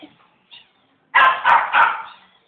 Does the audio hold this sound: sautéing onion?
no